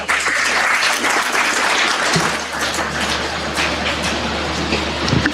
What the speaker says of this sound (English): Welcome him with a huge round of applause.